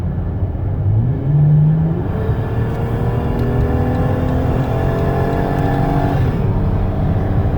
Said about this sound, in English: I'll try to get it up to about 70 miles an hour.